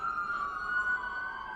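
A steady emergency vehicle siren wails outside, a single sustained tone drifting slightly in pitch, heard alone at moderate distance with no talk over it.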